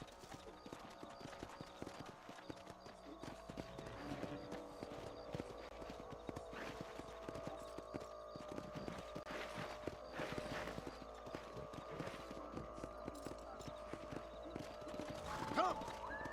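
Horse hooves clip-clopping at a steady trot in the Western game Red Dead Redemption, rhythmic and fairly close over ambient game sound, with a brief whinny and some speech mixed in.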